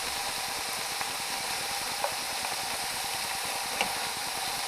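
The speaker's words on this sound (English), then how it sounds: "One of the cautions of cooking on high is that the oil splatter." Beef tips frying in oil on high heat, a steady hiss of sizzling with occasional small pops and splatters, even and fairly loud with no talking.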